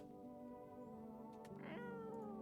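A cat meows in a horror video game, with a short rising and falling call heard over a steady droning ambient music bed.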